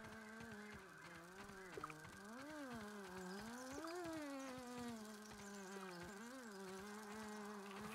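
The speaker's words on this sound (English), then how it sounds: "I hear one buzzing right here, but I don't see him" A gnat buzzing in the survival game Grounded, a steady wavering drone that rises and falls in pitch as the insect circles nearby, quiet and alone without speech.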